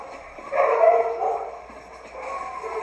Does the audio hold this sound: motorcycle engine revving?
no